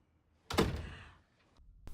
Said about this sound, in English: Eddie, shut the door.